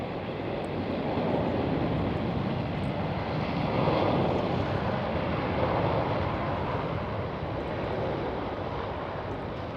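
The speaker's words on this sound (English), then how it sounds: "There goes the KLM A330" A KLM Airbus A330 takes off at Amsterdam Schiphol, its jet engines producing a broad, steady roar that swells slightly mid-way and holds, heard from a distance without talk.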